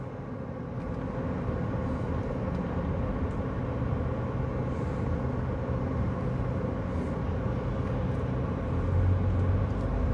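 Street traffic with many cars in Campina Grande makes a continuous low rumble of engines, steady and fairly close, growing slightly louder toward the end, with no voices heard.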